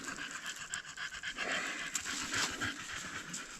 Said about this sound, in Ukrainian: Собаки набігались.